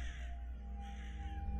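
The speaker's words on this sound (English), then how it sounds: "Why are these crows hanging outside my door?" Crows cawing in the horror video game Grey Dawn, two harsh drawn-out caws close by over a steady low ambient drone.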